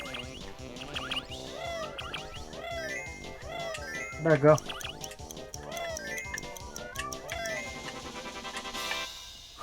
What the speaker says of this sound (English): He's meowing at the door again.